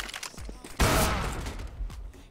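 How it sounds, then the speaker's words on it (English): Gunfire in a tactical shooter video game, a sudden loud burst that decays over about a second, surrounded by quieter thumps and brief clicks. "That was an unlucky shot through the smoke."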